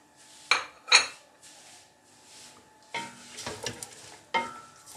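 Crushed garlic and finely chopped onion frying in a pot for chicken nihari, with sharp metallic spoon clanks against the pot, then softer stirring and sizzle bursts, close and without speech.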